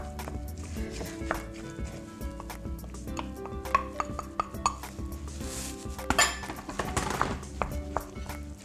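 Christmas pudding ingredients being mixed in a bowl, with a spoon scraping and clinking against the bowl in irregular taps and knocks, quiet and close.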